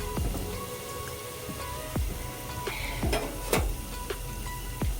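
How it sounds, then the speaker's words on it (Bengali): Palm fruit fritters fry in hot oil, giving a continuous crackling sizzle dotted with sharp pops and spits at irregular intervals, close and moderately loud. "একবারে তেলের ভেতর যতগুলো দেওয়া যেতে পারে আমি ততগুলো দিয়ে দিচ্ছি"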